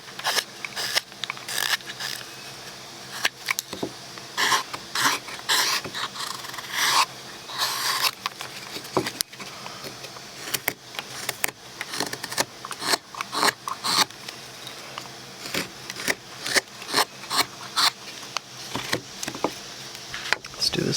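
A chisel pares a wooden Santa carving, shaping the beard, giving repeated short scraping and rasping cuts close up, with brief pauses between strokes and no talking.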